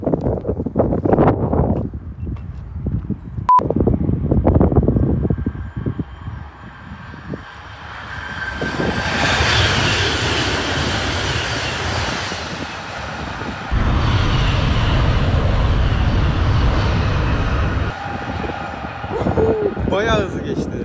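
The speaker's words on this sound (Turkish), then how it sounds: "Aha, tren geçiyor bak." A high-speed train rumbles past nearby with a broad roaring wash of noise rising and falling, between stretches of people talking.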